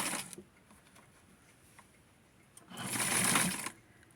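A sewing machine stitching a Barbie-sized tweed suit whirs in a short opening burst, falls quiet, then runs again in a louder, steady burst of close mechanical stitching near the end.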